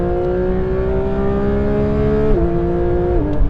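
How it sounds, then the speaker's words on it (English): A Porsche 911 GT3 engine hums steadily from inside the car on a circuit, its tone stepping down in pitch twice as gears change, with no speech. "now in the GT3, and let's have a listen to the engine. So I'm dropping down some gears"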